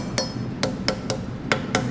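A hammer strikes a horseshoe six times in an uneven rhythm, each blow a sharp, close metallic hit with a brief ringing tone, over a low steady background.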